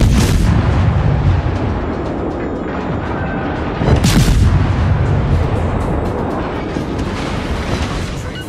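Naval artillery in a warship video game, dense booming gunfire rolling continuously with heavy low rumble and a sharper blast midway, loud and close, no talking.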